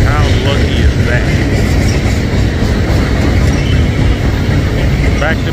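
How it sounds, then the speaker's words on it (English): Back-to-back tanker freight trains pass as a loud, continuous rumble of rolling railcars with faint wheel squeals, close by and unbroken throughout. "Back-to-back tanker train."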